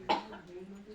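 A single short, sharp cough close by near the start, fading into a low indoor background murmur.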